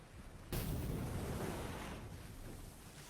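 Ocean waves in a film scene of a man heading out to sea on an inflatable raft with a wooden paddle, a sudden loud crash of surf that then rolls on as a sustained washing roar.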